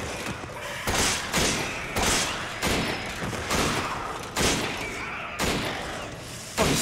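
Gunfire in the horror game Resident Evil 5, a string of sharp, evenly spaced shots about once a second, each with a short noisy tail, fairly faint and without talk.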